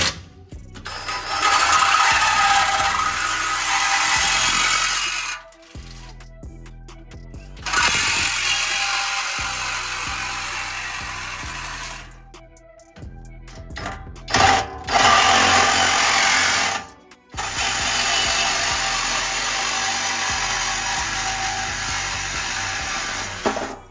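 A power tool tightens the leaf spring drop shackle bolts on a lowered truck, with long, loud, close bursts of whirring and hammering, broken by short pauses and quieter mechanical clicks over about twenty seconds.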